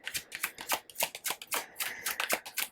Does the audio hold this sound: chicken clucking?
no